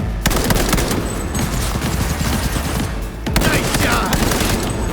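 Heavy gunfire in the Cyberpunk 2077 video game, a dense, continuous barrage of loud close shots and booms that briefly drops out once before resuming at full intensity.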